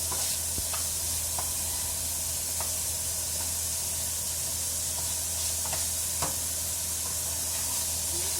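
Marinated pork being stirred in a hot pan with vinegar, giving a steady sizzle and hiss with occasional scraping clicks of the utensil, moderately close and with no talking.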